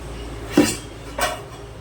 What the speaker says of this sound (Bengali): আমি ঢাকনাটা একবার সরিয়ে দেখবো।